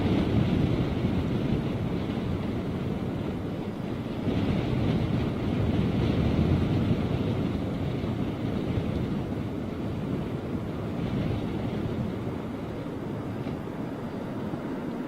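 Steady wind roars and buffets the microphone throughout, a continuous low rushing sound with slight swells and no pauses.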